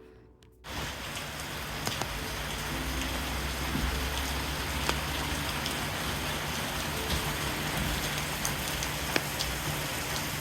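Heavy autumn rain on Quadra falls steadily, a dense hiss of drops with occasional louder splats, starting abruptly after a brief quiet moment and continuing without pause.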